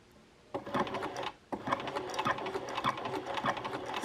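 A home sewing machine runs in short bursts, a whirring, rattling mechanical clatter that stops briefly and then starts up again, close and fairly loud.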